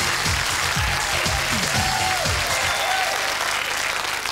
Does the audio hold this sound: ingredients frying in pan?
no